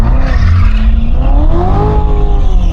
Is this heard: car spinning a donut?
yes